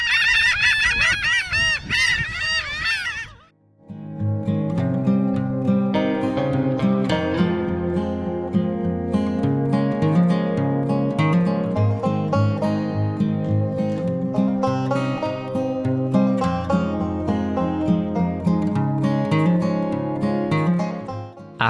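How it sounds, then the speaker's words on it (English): A laughing gull on an Irish estuary gives a short run of high-pitched, laugh-like calls, then a loud, continuous honking chorus of birds follows without a break, heard close and with no voices. "The name laughing gull is given to these birds because their call sounds like a high-pitched laugh."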